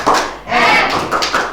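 A class claps hands together in a rhythmic math cheer during a mathematics lesson, giving a few bursts of close clapping with a short pause partway through, and voices may be mixed in.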